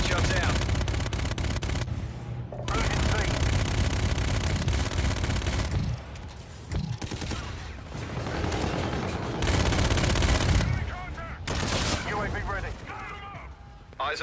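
Video game gunfire in a Domination match rattles in nearly continuous loud fusillades and machine-gun bursts. Brief pauses break it, and a voice talks over the shooting.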